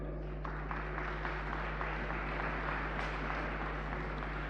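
An audience at a conference on economic development and local employment applauds steadily, a dense, even patter of many hands heard at a distance over a low electrical hum.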